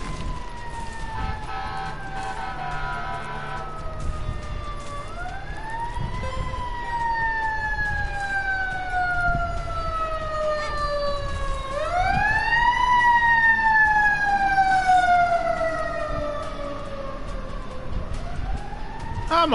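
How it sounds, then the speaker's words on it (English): An emergency vehicle siren wails outside, rising and falling in slow repeated sweeps. It sounds steady and moderately distant over low background noise, with no talking. "without sirens."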